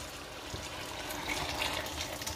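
Nearly boiling water is poured into a pan of rice with salt cod, making a continuous close gushing and splashing sound that builds slightly toward the end.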